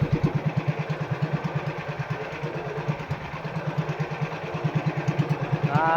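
A fishing boat's engine idling at sea, a rapid, even low chugging pulse that stays steady and moderately loud throughout, with no talking over it.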